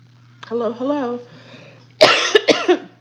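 A short burst of voice, then a pause, followed by a few sharp, close coughs in quick succession.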